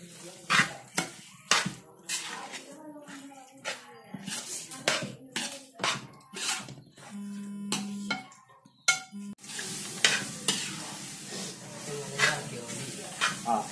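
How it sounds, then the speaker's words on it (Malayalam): Beef roast with meat masala is stirred in a pan, producing irregular bursts of scraping and clattering with a light hiss, while a voice talks intermittently. "നന്നായിട്ട് ഇളക്കി കൊടുക്കുക"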